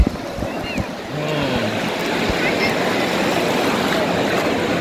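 Sea waves wash onto Digha beach in a steady, full roar of surf close by, with a few thumps and faint voices at the start.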